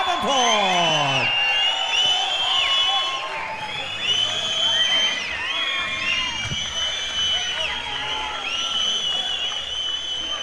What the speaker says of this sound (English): fan base crowd is right behind us because they are getting crunk